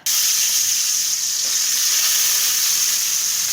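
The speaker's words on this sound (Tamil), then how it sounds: "அந்த சின்ன வெங்காயத்தை அதை ஆட் பண்ணி கலந்து விட்டுக்கோங்க" Ground shallot paste stirred into a sizzling chicken soup base for country-chicken soup, a loud, steady frying hiss that holds unbroken from the start with faint scraping of the spoon beneath.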